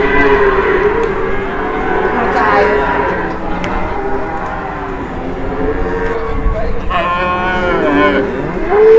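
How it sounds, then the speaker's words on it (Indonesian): Cattle on a farm moo repeatedly, long drawn-out lowing calls over a busy background, with people talking throughout and a louder, nearer moo toward the end. "Sapinya ganteng banget ya."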